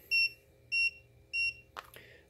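A Federal Signal three-button light bar controller beeps three times, evenly spaced short clear tones heard close up, followed by a brief click or handling noise.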